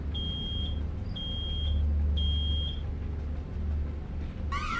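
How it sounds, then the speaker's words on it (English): A smoke-detector-style alarm in a video game beeps three times in long, steady high tones over a low engine rumble, followed by a brief chirping warble at the end. "Sounds like a fire alarm."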